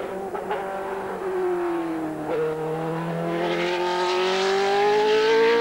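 A racing car with a Judd engine drives past at speed, its strong, steady engine note sliding down in pitch and then climbing again as it accelerates, heard alone without any talk.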